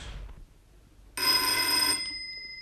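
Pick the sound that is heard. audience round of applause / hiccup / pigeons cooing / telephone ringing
telephone ringing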